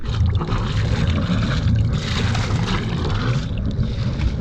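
The engine of a 46-foot sailboat, tested after its exhaust pipe was refitted, runs as a loud, steady, close rumble with a gusty, wind-like hiss throughout. No one speaks.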